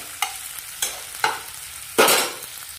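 Chicken and vegetables fry in a pan, a low sizzle punctuated by four distinct stirring scrapes, the last longest and loudest, heard up close with no voices.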